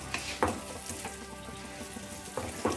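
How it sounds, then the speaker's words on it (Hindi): Spices roast with a soft, steady sizzle in a pan over a low flame while making desi-style pasta, with occasional scraping stirs breaking through. "सब मसालों को मैंने अच्छे से भून लिया है।"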